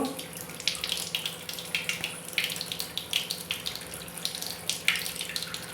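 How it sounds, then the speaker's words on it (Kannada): Water runs steadily through an Enagic SD501 water ionizer during deep cleaning with a booster pump, a close, continuous trickling flow with small irregular splashy bursts and a faint low hum beneath. "ಒಂದು ಎರಡು ನಿಮಿಷಗಳ ಕಾಲ ಈ ನೀರು ಹೋಗ್ಲಿಕ್ಕೆ ಬಿಡಿ"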